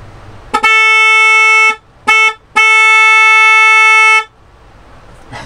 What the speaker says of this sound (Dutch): zal ik even kijken of ik de klaxon kan laten horen